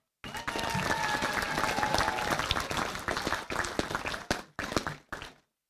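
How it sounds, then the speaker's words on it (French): Audience applause at a mayor's New Year greetings ceremony, a full crowd clapping steadily and loudly, then breaking into a few separate bursts that die away at the end. "Je vous demande de l'applaudir."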